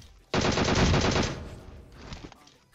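A dense burst of rapid PUBG Mobile gunfire erupts suddenly and stays loud for about a second, then trails off into scattered quieter shots.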